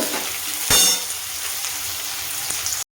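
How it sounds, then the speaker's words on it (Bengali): Three onions frying in mustard oil in a kadai until browned for birista: a loud, continuous close sizzle with stirring scrapes and a brief burst of stronger crackle. "পেঁয়াজ বেরেস্তা করে এটাকে বেরেস্তা করে নিয়ে আসছি।"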